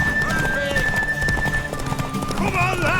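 Hooves clop in a quick rhythm in the game The Witcher 3: Wild Hunt, a nearby horse moving beneath a speaking voice and sustained tonal background sounds.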